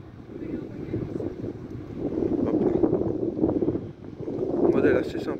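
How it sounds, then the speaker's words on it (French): Strong seaside wind gusts buffet the microphone in a steady low rumble, swelling louder toward the end, while someone talks about a car parked at a Citroën gathering. "désolé pour les rafales, comme je vous ai dit, c'est compliqué"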